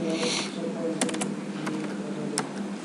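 Keys clatter on a computer keyboard as a systemctl firewall status command is typed, a quick burst of close clicks followed by a few separate taps over a steady background hum.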